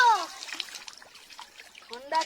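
Water splashing and trickling as people bathe in a river, with bright child-like voices talking and exclaiming at the start and end.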